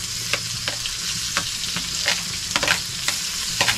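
Garlic and onion fry in a pan after ginger, a loud continuous sizzle with repeated spatula stirs and scrapes coming every fraction of a second, close up and with no talking.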